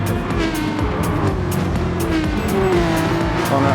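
Porsche race cars pass in a racing video game, a steady engine roar with rising pitch sweeps as the cars go by, under constant race noise.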